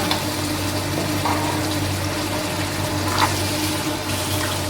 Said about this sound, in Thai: ขอน้ำอีกนะ เราชอบกินน้ำเยอะ